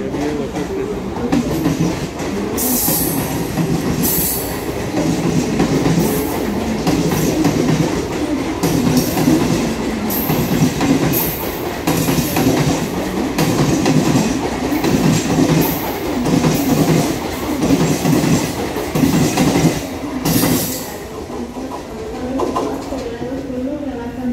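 A Mumbai suburban local train at Vasai Road railway station, rumbling steadily with clattering wheels and rail noise throughout, birds and pigeons chirping nearby, and voices talking in the background.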